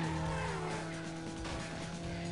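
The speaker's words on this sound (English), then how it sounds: "Braking. Braking hard again." A car in the Need for Speed Underground racing game brakes hard, and the engine drone and tire noise roar loudly and steadily throughout the short burst.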